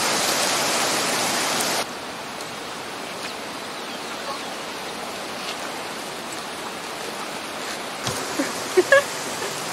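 Continuous broadband rushing of a flowing river in Cotopaxi, Ecuador, louder for the first couple of seconds, then steady, with a few faint clicks and knocks near the end.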